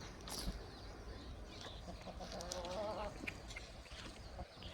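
A homegrown village hen of the Gavran or Kadaknath type clucks softly in a backyard coop amid steady farmyard background noise, with a few brief squawks and chirps from other birds scattered through.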